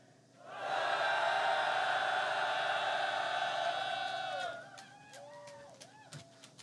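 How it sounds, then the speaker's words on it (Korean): A crowd of union members and supporters at a strike rally lets out a loud sustained shout for about four seconds, which then fades into scattered whoops and voices. "한번 큰 함성 질러주시면 감사하겠습니다"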